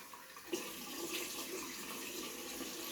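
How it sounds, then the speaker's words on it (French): Lukewarm tap water running into a basin for wetting the face before a facial cleanse, a soft steady splashing stream that starts abruptly and continues faintly and close. "on va déjà mouiller son visage"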